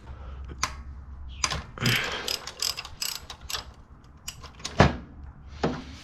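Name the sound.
removing bolts on a 2006 Honda Civic engine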